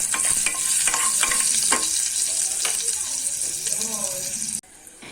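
Spices sizzle and crackle in a hot oil tempering with a little salt while a spoon stirs and scrapes the pan, a constant frying hiss with a voice briefly under it.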